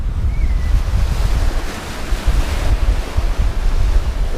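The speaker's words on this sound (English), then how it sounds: "just gotta be careful with those waves here now" Ocean waves surge and wash against a sailboat at sea between Shetland and the Faroe Islands, with steady loud gusting wind buffeting the microphone throughout and no talking.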